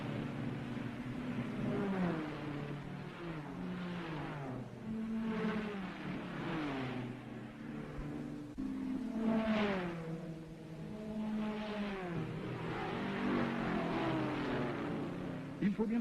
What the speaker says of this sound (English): another Porsche 956 that's performing very well is the British Richard Lloyd team